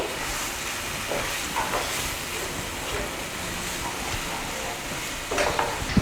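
Spices get stirred into a green chickpea curry in a pan, giving a low continuous sizzle and hiss with occasional soft scraping stirs, close and steady.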